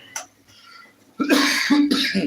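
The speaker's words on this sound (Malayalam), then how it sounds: "ചുമ പിടിച്ചോട്ടോ" A faint throat sound, a pause, then a burst of harsh, loud coughs close by.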